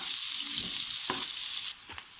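Chopped onion frying in a pan, a bright hiss with a couple of stirring knocks before the sizzle suddenly drops to a quieter crackle.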